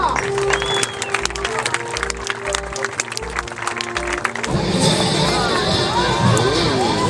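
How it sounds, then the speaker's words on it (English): An audience at a dolphin show in Willemstad, Curaçao, bursts into applause and crowd noise over amplified music, the clapping swelling in the second half as the music cuts off. "And give them a big applause."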